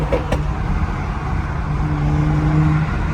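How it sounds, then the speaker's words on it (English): A BMW F30 340i engine hums steadily and loud, with a low drone and a faint rising tone near the end, in traffic close by. "But car sound crazy."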